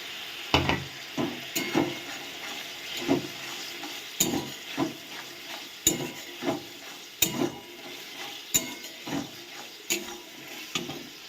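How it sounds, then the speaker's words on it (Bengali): Chopped capsicum stirred and frying in a spiced masala for a vegetarian paneer dish, with repeated sizzling bursts and scraping stirs of a spoon in a pan at a steady rhythm, close and alone. "এবার এই মশলার মধ্যে আমি যে ক্যাপসিকামগুলো কেটে রেখেছিলাম এগুলো দিয়ে দিলাম।"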